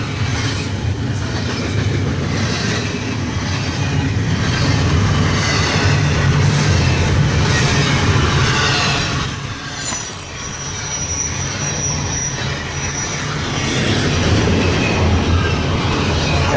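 A freight train rolls past along the tracks beside a freeway in Rancho Mirage, with a loud, continuous rumble, rattling cars and high-pitched wheel squeal that stays close and steady throughout.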